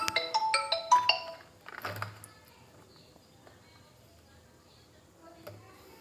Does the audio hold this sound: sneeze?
no